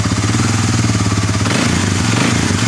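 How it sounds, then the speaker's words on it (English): A small ATV engine with carbon buildup runs rough and loud close by, its exhaust backfiring, sputtering and popping in rapid uneven bursts. "the exhaust backfiring"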